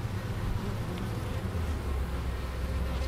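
Honey bees buzz in a dense, steady low drone close by from an open hive of pollen-filled frames being prepared for winter, continuous throughout with no talking.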